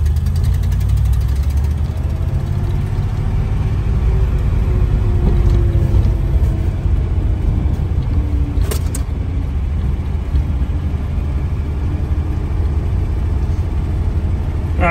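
A 1954 Ford Mainline's old engine runs loud and steady as the car drives, a close low mechanical rumble with a brief sharp click partway through.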